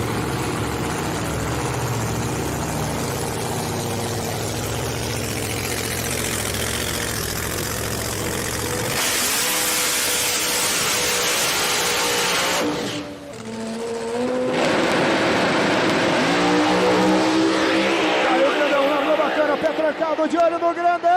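A race car engine with KTR horsepower revs hard and accelerates at a qualifying session, a loud continuous roar that rises and shifts pitch, with a brief dip midway before it surges again under an excited commentator's voice.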